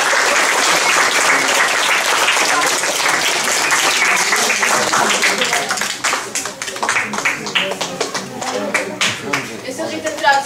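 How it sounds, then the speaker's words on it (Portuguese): Theatre audience applauding at the close of a stage play, a dense sustained wash of many hands clapping that thins and turns more scattered toward the end, with some voices mixed in. "uma salva de palmas"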